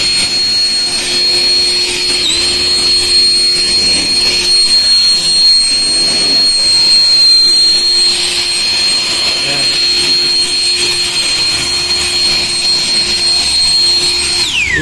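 A Euro Griffin 180i turbo jet mini blower, 2K watts, runs on one lithium battery, giving a loud, sustained high-pitched whine with a steady airy roar throughout, a faint voice underneath.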